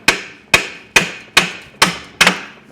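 Six sharp, ringing heavy-hammer strikes on a Mercedes W123 metal driver seat track, evenly spaced about half a second apart, close and loud with a short metallic decay after each.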